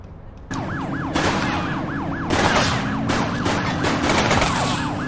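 Police car gunfire during a vehicle pursuit in the cop game The Precinct, sharp repeated shots ringing out over a wailing siren and the engine, loud and close with no talking.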